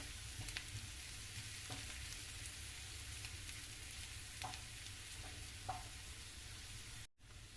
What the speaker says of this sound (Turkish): Evet patlıcanlarımız haşlanırken biz de soğanlarımızı kavurmaya başladık